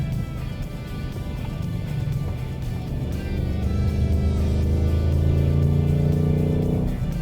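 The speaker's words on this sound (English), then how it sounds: "We'll come in and downshift and use the brakes a little bit." A 2021 Ford Mustang Mach 1 V8 drives hard through a run of corners, engine rumbling steadily with a downshift and then a rising pull as it accelerates, loud and close from inside the cabin.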